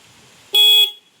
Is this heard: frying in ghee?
no